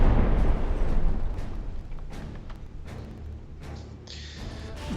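Warship cannons firing in a naval battle video game, a run of heavy booming blasts with rumbling low end that roll on continuously, loud at first and then easing slightly, with sharper cracks scattered throughout.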